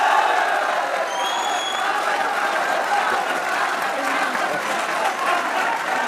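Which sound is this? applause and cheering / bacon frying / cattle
applause and cheering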